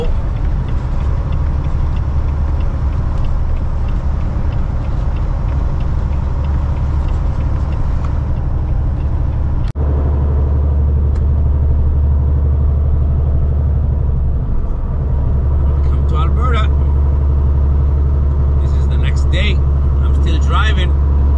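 Car driving through a blowing winter snowstorm in Edmonton at minus 21, a heavy steady low road rumble and cabin drone throughout, with a person talking over it.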